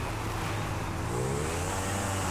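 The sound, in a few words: car accelerating in GTA Online, from a video game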